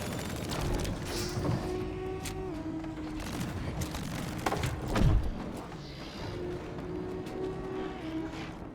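Gunfire from the video game Split Fiction crackles in rapid bursts over layered mechanical game noise and a low hum, with a heavier impact midway.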